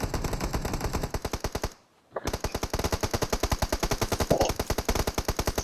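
Rapid machine gun fire in a shooting video game rattles out in loud, evenly spaced bursts, breaking off for a brief silent pause before resuming in a steady stream of close shots.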